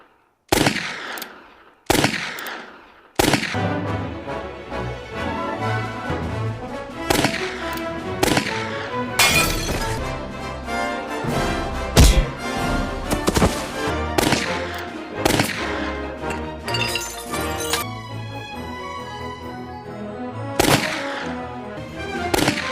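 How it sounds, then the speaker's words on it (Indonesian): Gunfire from a Western comedy film's shooting-practice scene, with sharp repeated shots in irregular bursts, some rapid clusters, ringing out loudly over a continuous music-like background. "mulailah Anna melatih Albert menembak selama hampir 7 hari"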